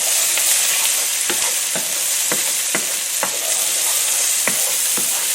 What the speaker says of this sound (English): I chopped up 1 shallot, and that's what we just added.